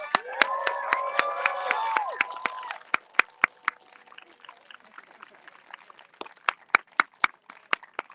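Scattered hand claps from an outdoor rally crowd on a hot day, a few sharp claps standing out over a background voice at first, then thinning into sparse, distinct claps.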